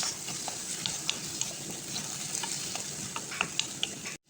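Tomatoes sauté in a pan as a bitter melon and egg dish is cooked, giving a steady low sizzle with scattered light clicks of stirring throughout, close and moderately quiet, ending in a brief dropout.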